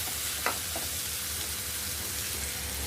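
Tomato pieces tossed into a bitter gourd curry and stirred in a hot pan, with a loud continuous sizzle and a few scraping spoon strokes, close and without voices.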